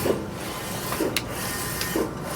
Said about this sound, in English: now I'm gonna actually turn the dryer on and let this guy start coming up to temperature here